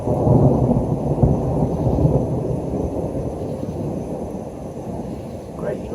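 Deep thunder from a lightning storm in Augusta, Georgia rumbles steadily and loudly, then slowly fades, with steady rain and no talk.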